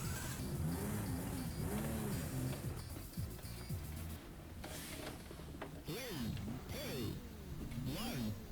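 A Ferrari engine in the Daytona USA 2 racing game revs and climbs in repeated rising and falling tonal sweeps over a steady droning bed, moderately quiet, with faint talking blended underneath.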